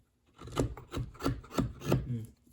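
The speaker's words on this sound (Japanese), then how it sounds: "この最初に描いた線を見ながらこうぐるーっとね削っていく" A wooden netsuke of a round mouse is hand-carved along a drawn line, with four or five slow, soft rasping scrapes of the blade across the wood, close and quiet, in an even rhythm.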